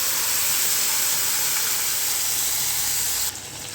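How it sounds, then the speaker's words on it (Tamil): Spices with asafoetida temper in hot oil for a South Indian side dish, giving a loud, even sizzling hiss that holds steady, then drops off abruptly near the end. "இது கூடவே ஒரு டீஸ்பூன் அளவுக்கு பெருங்காயத்தூள் சேர்த்துக்கிறேன் எல்லாத்தையும் நல்லா தாளித்து விட்டுக்கலாம்"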